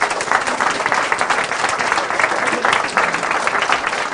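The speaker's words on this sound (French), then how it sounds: "je vous demande, pour voir si vous êtes chaud au niveau des applaudissements, d'applaudir déjà toute cette équipe" An audience applauds a volunteer team at a local democracy event: dense, sustained clapping from a large crowd, loud and steady throughout with no break.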